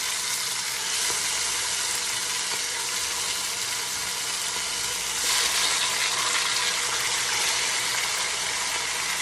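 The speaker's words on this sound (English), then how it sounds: "We're going to let this chicken get brown and continue frying" Steady sizzling of chicken browning in a pot for Jamaican brown stew chicken, a continuous hiss that grows slightly louder partway through, with no talking.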